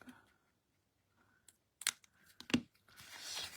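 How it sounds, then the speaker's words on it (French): Scissors cut a small square out of a paper cutting strip, with a few sparse snips and crisp paper rustles among quiet pauses, ending in a longer papery scrape. "On va couper le petit carré qui est dans le bas"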